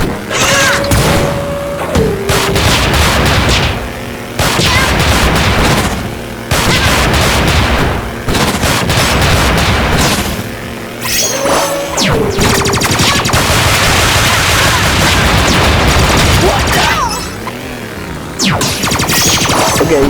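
Heavy artillery-like gunfire from the Freedom Planet video game pounds in loud, dense bursts of booms and thuds, broken by brief pauses, with synthetic game sounds mixed in.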